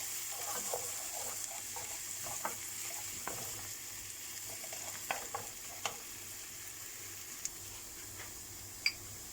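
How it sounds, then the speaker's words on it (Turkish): Onions and green peppers fry with red kapya pepper in a pan while being stirred: a steady sizzle throughout, with sharp utensil clicks and scrapes against the pan at irregular intervals, close and fairly quiet. "Kavrulan soğanlarımızın, biberlerimizin üzerine kırmızı kapya biberimizi koyuyoruz. Karıştırıyoruz."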